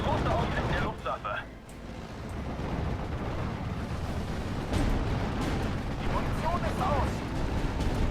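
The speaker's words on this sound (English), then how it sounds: "All the artillery incoming on there." Artillery barrages rumble and crack in the WWII strategy game Steel Division Second Wave, with dense, sustained low booms and scattered sharp reports, a voice talking over the continuous battle din.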